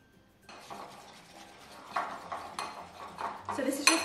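Utensil stirring and clinking in a bowl while mixing chicken nugget batter with almond milk, repeated scraping strokes and light taps growing busier, close up.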